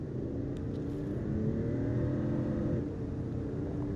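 A Niflheim Magitech engine from a Final Fantasy game gives off a steady, loud low rumble with a revving mechanical whir, running continuously throughout without speech.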